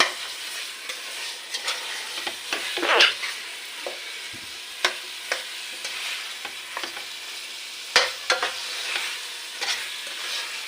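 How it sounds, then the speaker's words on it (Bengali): Boiled potato pieces sautéed with spices in a pan for chotpoti, scraped and stirred with steady frying sizzle and repeated spatula scrapes and knocks, close and alone. "আলুগুলোকে আমি ভালো করে কষিয়ে নেব এইভাবে সুন্দর করে"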